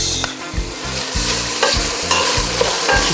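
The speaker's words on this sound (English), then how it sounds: "Stir those in, let them get some color and heat on them" Green olives stuffed with pimentos and capers are stirred into a hot, sizzling pan, with steady frying hiss and repeated scraping stirs close up, no talking.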